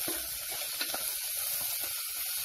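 Chopped onions drop into hot oil with fenugreek and give a steady, fairly quiet hissing sizzle close by. The sound is even throughout, broken only by a few faint crackles, with no voices.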